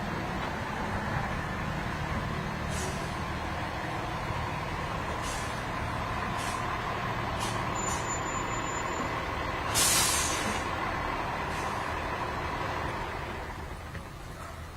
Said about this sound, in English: And then here's our leaf vac, ma'am. Coming pulling right up next.